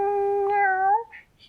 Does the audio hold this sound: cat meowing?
yes